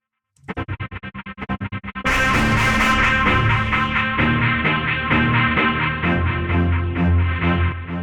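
A rapid run of plucked, buzzy synth notes gives way to a thick, heavily distorted synthesized string chord from the Ujam Striiiings plugin that sustains and pulses loudly.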